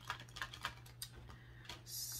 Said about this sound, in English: I'm going to go ahead and shuffle these three times